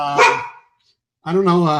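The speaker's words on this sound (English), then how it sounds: "Sorry about the dog." A dog barks once or twice loudly and close, then falls silent, with someone speaking over and after it on a phone-in line.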